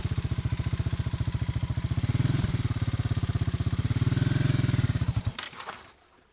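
A motorcycle ridden by a learner pulls away in first gear with a loud, steady low thump that chugs and then stalls out abruptly near the end, followed by a brief clatter.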